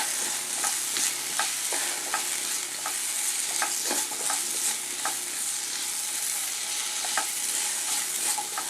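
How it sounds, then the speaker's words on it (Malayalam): Coriander powder roasting in hot oil for a homestyle egg kurma, with a steady close sizzle and regular scraping stirs of a spoon against the pan, continuous and without speech. "ഇത് നന്നായിട്ടൊന്ന് ഇളക്കി കൊടുക്കുക. മല്ലിപ്പൊടി നന്നായിട്ട് മൂത്ത് വരണം."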